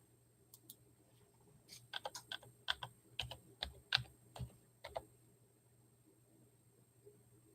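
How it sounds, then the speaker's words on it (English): Typing on a computer keyboard, a quick run of about a dozen light key clicks in uneven bursts against a quiet hum, with no talking. "Let me type it in."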